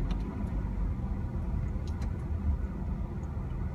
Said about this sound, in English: Waiting for this car to drive by.